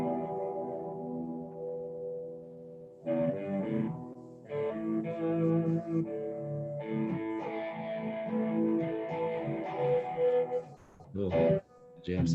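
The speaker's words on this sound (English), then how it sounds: "I got some good distortion on it here." Musical instrument jam played through a distortion effect, sustained buzzing harmonic tones that break into choppy phrases, with voices talking intermittently alongside.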